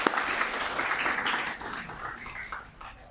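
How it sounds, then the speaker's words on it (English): An audience at a talk on education in Cambodia claps for their teachers, a dense, steady wash of hand claps from many people that tapers off gradually toward the end. "why don't you give your teachers a big round of applause too"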